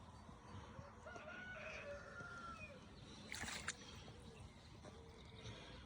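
Outdoors on a fishing outing, a rooster crows faintly from a distance, a drawn-out call rising above low rumbling background noise.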